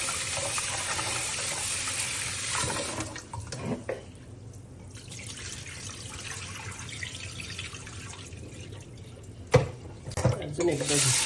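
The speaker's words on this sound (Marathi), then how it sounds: "आता धुवून स्वच्छ धुवायचं 2-4 वेळा, म्हणजे ती फळ निघून जाते." Soaked dal and rice are rinsed in water in a kitchen, with running tap water and sloshing in a vessel close by, a steady wash broken by a few sharper splashes near the end.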